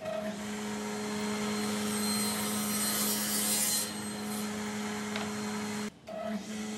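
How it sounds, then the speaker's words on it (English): A table saw with a crosscut sled cuts through poplar, its motor humming steadily under a rasping cut that runs for several seconds before briefly dropping out near the end; faint and recorded alone, without talk. "Now I'll cut that out using the crosscut sled on the table saw."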